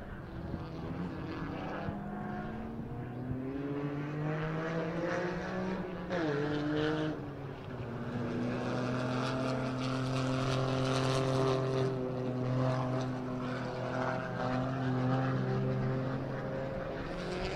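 A race car on a cool-down lap at Circuit of the Americas during a 2019 Super Lap Battle gives a steady, droning engine note, held and fairly loud. Its pitch bends briefly midway, then settles into a sustained hum.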